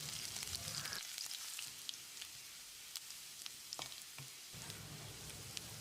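Cumin, fennel seeds and finely chopped garlic frying in a pan, a steady soft sizzle with small crackles and pops throughout, fairly quiet and with no voices.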